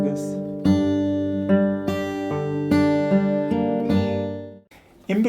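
A fingerstyle acoustic guitar plays a counter melody from a song over a bass line, a run of plucked notes and chords that sounds close and clear, with a brief pause near the end.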